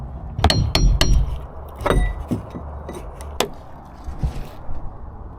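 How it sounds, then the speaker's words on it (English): Irregular sharp metallic strikes of a hammer on a punch while removing a boat transom, several blows in quick bursts with short pauses between, close and fairly loud. "You just hammer it this way, or you can use something like this, like a punch."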